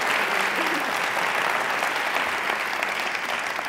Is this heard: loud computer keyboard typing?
no